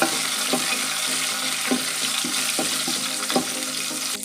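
Curry leaves and green chillies crackle and sizzle in a hot pan for a colocasia leaf and buttermilk bhaji, with a steady frying hiss broken by regular scraping strokes of a stirring spoon.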